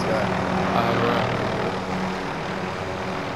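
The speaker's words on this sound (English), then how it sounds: "Be cool with the helicopter. Yeah, I'll hover around." A helicopter hovers in the Call of Duty Warzone video game, a loud, steady rotor-and-engine roar holding constant throughout, with players' voices faintly under it.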